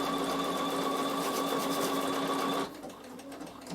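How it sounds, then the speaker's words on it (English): A Bernina sewing machine runs steadily and close up as it stitches two decorative patterns, with a whirring hum that stops sharply just after two and a half seconds, leaving quiet room noise. "It's going to sew 2 patterns."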